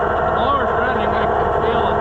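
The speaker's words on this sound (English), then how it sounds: "The blower's running" The air blower on a White 5100 planter runs steadily at close range, a loud, even whooshing drone with a low engine-like rumble beneath it that holds constant throughout.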